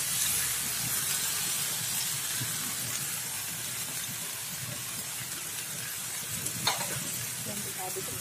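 Fried anchovies, tempeh and peanuts are stirred together in a hot pan for a sweet-spicy dry dish, giving a steady loud sizzle and hiss with faint scraping of the spatula throughout and no talking.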